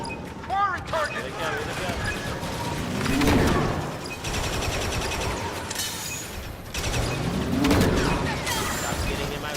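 Blaster fire in a Star Wars video game, bursts of shots and mechanical clatter in two clusters amid battle noise, loud and close, with voices talking over it.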